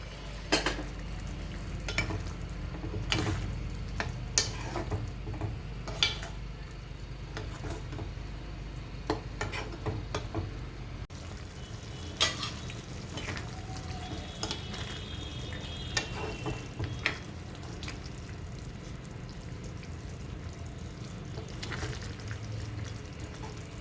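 Fried soya chunks (meal maker) simmering in a masala curry gravy, a low continuous bubbling sizzle with occasional spoon scrapes and clinks against the pan, steady and close, with no talking.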